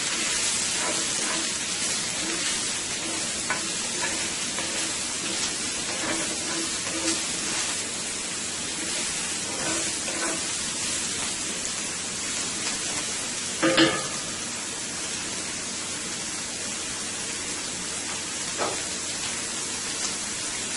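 Mushrooms frying in a pan for a shrimp fettuccine Alfredo sauce, giving a steady, fairly loud broadband sizzle throughout with occasional stirring scrapes and one brief louder clatter midway; no one speaks.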